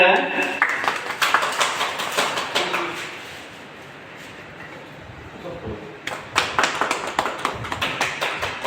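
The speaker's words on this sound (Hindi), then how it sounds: "जोरदार ताली बजाया जाए।" An audience at a Holi get-together of journalists and local officials applauds loudly in dense bursts of clapping, then pauses briefly and erupts again.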